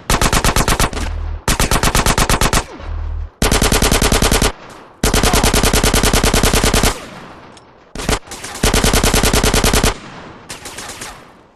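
Loud bursts of rapid automatic gunfire from GTA San Andreas come in several long strings with short gaps between them, close and dominant, with no talk.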